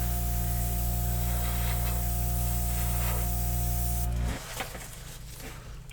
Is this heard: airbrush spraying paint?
yes